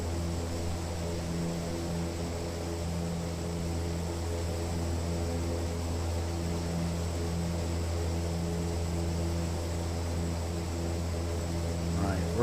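A small, slow propeller plane cruises over Papua New Guinea in the Prepar3D v5 flight simulator, its engine giving a constant droning hum with steady harmonic tones and a slight rise at the very end.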